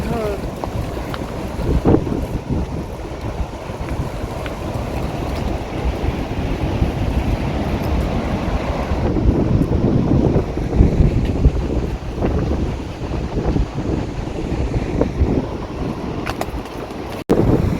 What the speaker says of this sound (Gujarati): અહીંયા તો ઉપર એવો પવન આવે ઠંડો ઠંડો